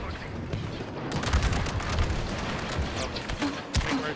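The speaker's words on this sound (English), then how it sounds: "Fucking wrist rockets! Watch those wrist rockets." Wrist rockets firing in Star Wars Battlefront II, a dense barrage of blasts and explosions with rapid gunfire layered underneath, loud and continuous, while a player talks over the action.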